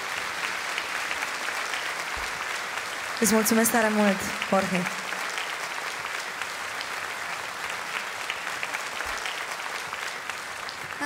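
Concert audience at the National Opera applauding during an extraordinary Christmas carol concert with a symphony orchestra, sustained dense clapping filling the hall, while someone speaks briefly into a microphone over it.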